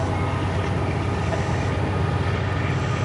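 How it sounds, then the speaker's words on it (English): A train rolls past close by outdoors during a weapons training session, a loud continuous rumble of rail cars with a faint clickety-clack, steady from start to finish with no speech over it. "Love the train, okay."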